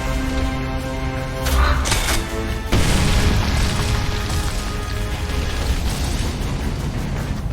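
Grenade blasts in Gears of War boom loudly, one near two seconds and a heavier one shortly after, trailing into sustained rumbling debris and battle noise.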